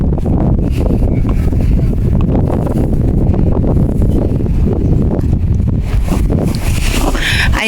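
Strong gusting wind buffets the microphone outdoors in the Czech Republic, a loud continuous low rumble with rough bursts throughout and faint voices partly buried underneath.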